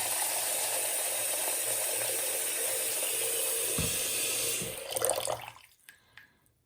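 Water runs steadily from a tap into a sink, a constant rushing stream that cuts off near the end, followed by a few faint drips and clunks.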